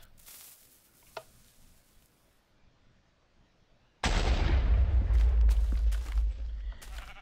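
Explosion in Minecraft near redstone wire. After a few seconds of near silence with one small click, a sudden loud blast bursts in and rumbles on, with crackling debris sounds through the rest.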